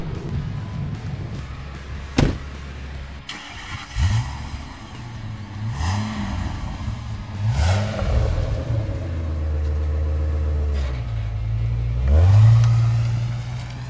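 A 2001 Ford Excursion Limited 4x4 with a V10 engine cranks with a sharp click, fires up and settles into a deep idle, then is blipped through several rising and falling revs, loud and close, with no talk over it.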